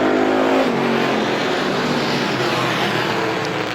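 Race cars at Star Speedway accelerate hard after a green flag restart, several engines roaring together with rising pitch, loud and close before thinning slightly as the pack pulls away.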